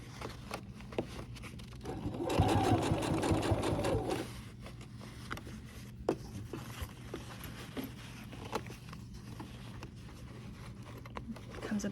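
A sewing machine stitching fabric for a crossbody bag runs in a short, steady burst, then falls to a faint mechanical ticking, with a person talking over it.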